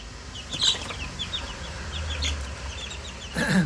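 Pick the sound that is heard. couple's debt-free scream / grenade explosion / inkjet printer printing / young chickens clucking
young chickens clucking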